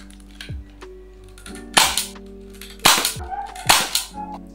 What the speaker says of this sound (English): we're going to shoot that pink glove over there, starting it off with these old Xshot darts